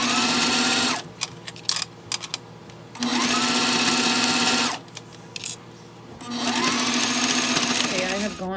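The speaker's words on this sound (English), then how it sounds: "let's go ahead and stitch this down as close as we can to the edge, catching both sides right now" A sewing machine stitches fold-over elastic down along a fabric edge for a waist bag pocket lining. It runs in three loud, close bursts of rapid whirring, with short quiet pauses between them and some faint handling noise.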